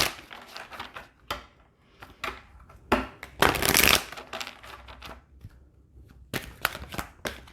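Oracle cards being shuffled by hand in bursts of riffling and flicking, close and crisp, with short pauses between runs and no speech.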